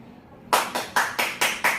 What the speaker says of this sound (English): Close your eyes and listen to the clap.